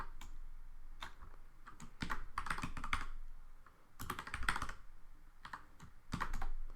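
Keys clattering on a computer keyboard as Python code is typed, a close, steady patter of quick clicks with short bursts and brief pauses, no voices.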